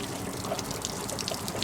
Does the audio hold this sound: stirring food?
no